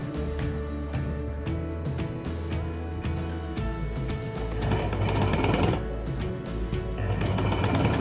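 A sewing machine runs steadily while stitching an African print fabric hair bonnet, its fast mechanical whirr and needle chatter continuous and close throughout, with no talking.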